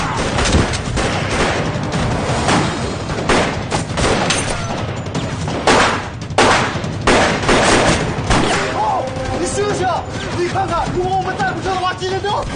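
Gunfire in a Chinese martial-arts film scene about a Japanese assassin, loud rapid bursts and repeated shots fired throughout with dramatic background music underneath.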